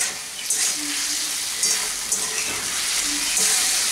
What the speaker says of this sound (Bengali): এখন আমি এর মধ্যে ভেজে রাখা আলুগুলো দিয়ে দিলাম। আলুগুলোকে একটু কষিয়ে নিচ্ছি মশলা।